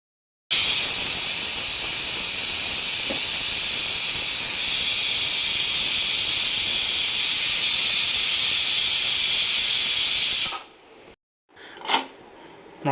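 A pressure cooker holding a plain rice bath, or pulao, lets out a loud, steady hiss of escaping steam for about ten seconds. The hiss then stops abruptly, followed by a couple of brief clicks and puffs.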